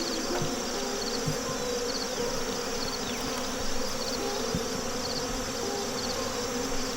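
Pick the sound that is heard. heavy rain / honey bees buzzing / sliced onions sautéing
honey bees buzzing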